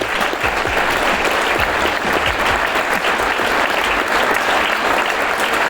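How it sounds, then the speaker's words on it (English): Warm, dense applause from an audience, loud and sustained with a steady wash of many hands clapping and no pauses. "Let's give a warm round of applause for Nathan Reynolds"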